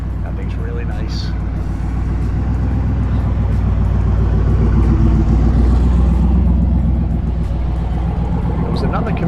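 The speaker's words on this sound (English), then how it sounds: "We got a pretty good sounding Camaro coming in, looking pro street car with these big wheels." A pro street Camaro on big wheels rumbles in at a fall car club show in Attleboro, Massachusetts, a deep, loud, steady engine drone that swells slightly as it nears, with people talking over it.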